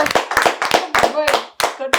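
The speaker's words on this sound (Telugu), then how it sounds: "క్లాప్స్ కొట్టండి రా" Children clapping their hands at home in a quick burst of about eight sharp, close claps over two seconds, with a voice briefly mixed in.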